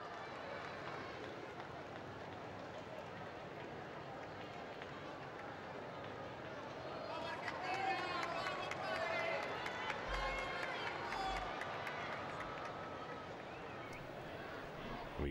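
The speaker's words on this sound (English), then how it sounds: "We can hear the crowds greeting the Holy Father, enthusiastic for his arrival." A crowd at a papal general audience greets Pope Francis on his arrival, a steady wash of distant cheering and voices that swells louder about halfway through and stays busy to the end.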